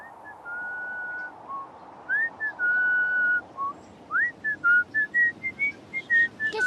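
A person whistles the March of San Lorenzo up close, with clear sustained notes at first, then quick, evenly spaced notes in a steady rhythm.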